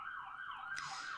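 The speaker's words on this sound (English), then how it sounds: "I'm getting distracted by the sirens going off" A siren wails outside, rising and falling in quick sweeps, moderately distant and continuous, with no voices over it.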